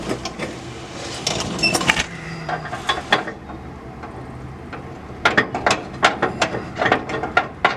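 A nut is worked onto a bolt with a run of sharp metallic ratcheting clicks and clanks, clustered in bursts, then pausing before a quicker, louder series of clicks near the end, with no voices.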